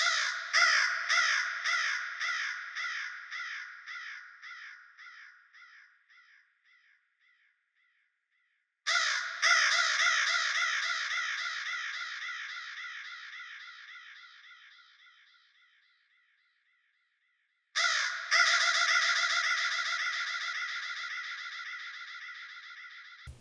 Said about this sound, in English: I feel like only I can chop a bird noise and put it into a song